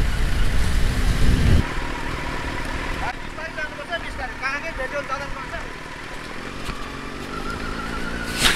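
Motorbikes ride in a road safety awareness rally, their engines droning and revving nearby in a continuous stream of traffic, with voices talking over the engine noise.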